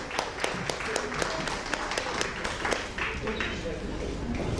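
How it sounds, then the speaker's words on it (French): An audience at a gathering in Belgium claps together, a fairly close patter of many hands with some louder individual claps standing out over the steady wash. "je voudrais bien applaudir Dr Kazri qui a tout fait."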